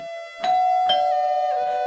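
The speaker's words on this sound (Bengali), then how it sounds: "এখন আবার কে কলিং বেল টিপলো?" An electronic doorbell chimes inside a home, two clear ringing tones in quick succession that sustain and fade, loud and close with nothing else heard.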